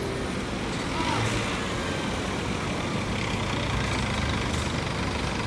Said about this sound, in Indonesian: Ini bus yang di depan kita ini Al-Hijrah.